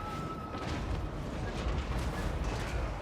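Cannon fire from a Total War: Warhammer 3 battle booms through dense, continuous rumbling game noise, heavy low-end blasts blending into the steady roar of combat without clear separation.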